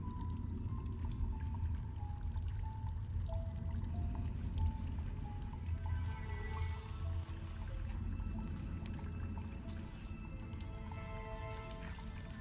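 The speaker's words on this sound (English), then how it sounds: "That water drip is insane" Water drips and trickles steadily in the video game Choo Choo Charles, faint plinks and splashes over a low rumbling background, with no talk.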